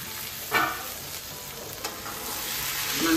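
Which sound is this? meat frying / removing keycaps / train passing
meat frying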